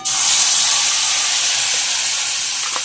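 Whole spices hitting hot oil for tempering, a loud, steady close-up sizzle and hiss that bursts in suddenly and holds evenly throughout, with no voices.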